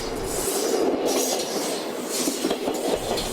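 A passing train in the Netherlands gives a close, continuous rolling rumble with rattling wheel noise and no voices.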